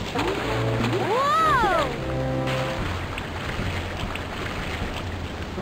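Water splashing and lapping around a raft in the video game Putt-Putt Saves the Zoo, with a steady wash of waves under a rising and falling whistle-like game tone and low synthesized background music.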